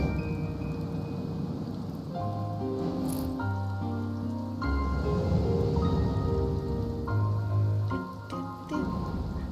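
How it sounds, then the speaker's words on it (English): Rain pattering in Final Fantasy XIV, a soft hiss of falling drops under sustained musical tones from the game, steady and moderately quiet, without speech. "It's raining."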